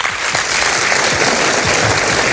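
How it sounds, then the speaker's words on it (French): An audience applauds at a talent competition final in Maine, with loud, dense, continuous clapping from a close crowd throughout. "on peut l'applaudir"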